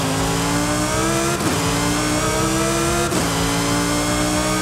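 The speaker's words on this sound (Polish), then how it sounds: "Słyszysz po prostu kogoś, kto jedzie koło ciebie i ma zainstalowany kompresor." A supercharged 2020 Lamborghini Huracán STO in the Forza Horizon racing game revs loudly and steadily with a constant whine, pitch sweeping up and down twice as the throttle changes; close and continuous with no talk.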